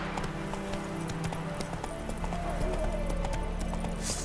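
Horse hooves clip-clopping steadily in The Witcher 3: Wild Hunt, a regular trotting rhythm over a busy game soundscape, with a brief whinny-like tone near the end.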